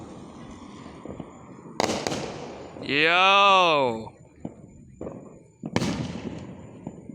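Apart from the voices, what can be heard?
fireworks exploding during 4th of July show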